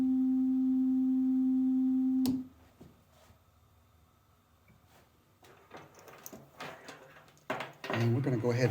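A pure, steady sine tone from a Q169 synthesizer oscillator hums for about two seconds and cuts off abruptly, followed by quiet clicks, shuffling and a voice.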